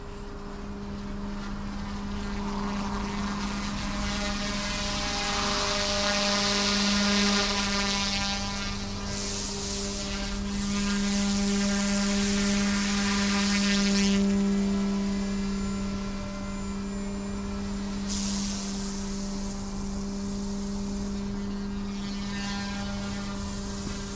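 An OMP M2 EVO RC helicopter hovers over a field, its rotor and motor giving a steady whine with strong tonal hum, holding fairly constant with slight swells as it drifts.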